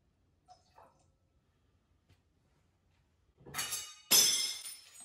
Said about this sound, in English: To shake out the glass.